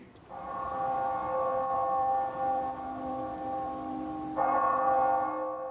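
Bells toll across a city during a memorial ceremony for John F. Kennedy, producing a sustained, ringing metallic tone that swells and is struck again near the end, heard at moderate loudness from a distance.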